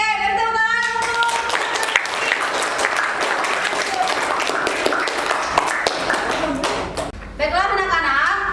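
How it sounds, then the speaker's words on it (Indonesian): A classroom of students applauds in a sustained burst of clapping that runs for several seconds, with a short lull before a few scattered claps and voices resume. "beri tepuk tangan untuk"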